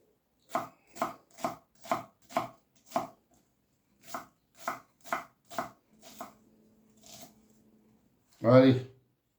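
A knife chops onions coarsely on a cutting board while pasta bolognese is prepared: two quick runs of evenly spaced, crisp chops, then a short voice near the end.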